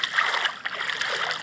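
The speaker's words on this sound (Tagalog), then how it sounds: "lakas ang agos ng tubig" Rushing, splashing typhoon floodwater flowing strongly and close by, a continuous turbulent churn throughout.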